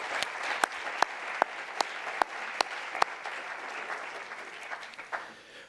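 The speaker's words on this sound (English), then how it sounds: "Please join me in a round of applause for our sponsors." An audience at a health disparities roundtable applauds its sponsors: a moderate round of clapping with a few sharp nearby claps standing out, tapering off toward the end.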